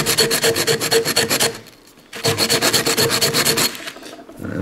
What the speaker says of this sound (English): Try it on actual concrete, not on a sharpening stone.